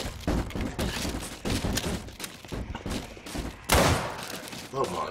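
Rapid gunfire in the zombie survival game Contagion, with loud close bursts of shots and heavy thumps overlapping, while a voice talks over the shooting.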